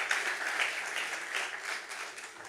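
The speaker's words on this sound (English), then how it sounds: "Please welcome him with a round of applause." An audience at a yachting technology conference in Monaco applauds to welcome a speaker, a dense, steady round of clapping heard from within the room that tapers slightly toward the end.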